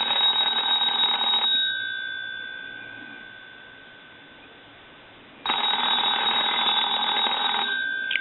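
A rotary telephone with a donut-circle dial, under repair, rings its bell loudly in two long bursts, the first fading into a thin hum before the second starts abruptly.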